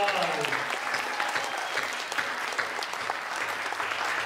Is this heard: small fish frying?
no